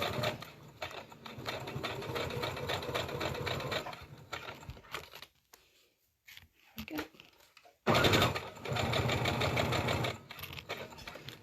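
A sewing machine stitches the fabric seams of a soft toy in fast, rattling bursts, close up. It runs for several seconds, pauses, then starts again, and a voice talks softly at times.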